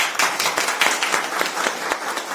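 Hall audience of education staff clapping together at a district education officer's gathering, a dense steady round of applause filling the whole moment, many hands close and loud with no voices over it.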